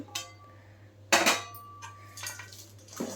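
Fried peanuts and chana dal stirred into a puffed rice masala, giving a few sharp clattering scrapes and clinks of a spoon against a bowl, close and brief, separated by quiet gaps with a low steady hum underneath.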